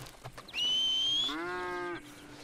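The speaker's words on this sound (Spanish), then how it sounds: "¡Ay, las vacas!" Cattle lowing in the Red Dead Redemption II video game: one long, loud moo that starts high and nasal, then drops into a lower, steady bellow before cutting off, heard alone.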